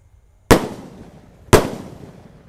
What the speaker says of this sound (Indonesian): Sudah menyala bosku, peluru pelontar 2 tor.